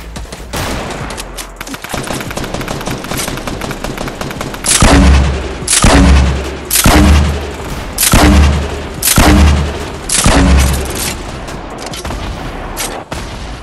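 Exploder blasts in Fortnite go off in a rhythmic series of about six loud, booming explosions spaced roughly a second apart, following a stretch of busier rapid gunfire and battle noise.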